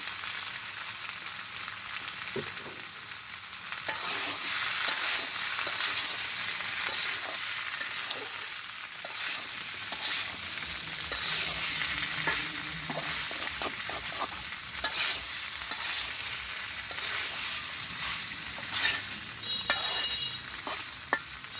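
Green jackfruit and prawn curry sautéing in oil in a village kitchen, a steady loud sizzle with continuous stirring and scraping throughout, close and alone without voices.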